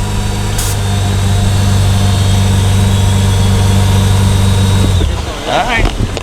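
Supercharged BMW E46 on air ride idling at a car meet, a loud steady engine drone with a faint whine that cuts off near the end, followed by brief low voices.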